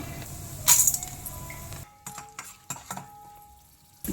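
Peanuts, urad dal and chana dal dropped into a few spoons of hot oil in a pan while making dry coconut chutney powder, a loud rattling pour followed by scattered sizzling and spoon clinks against the pan.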